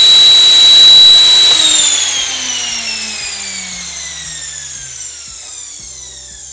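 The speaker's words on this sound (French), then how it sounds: "Vous constatez que mon moteur fonctionne." A standby generator engine runs steadily, a loud broadband mechanical drone with a high whine that drops and fades while regular low thumps continue beneath; no voices.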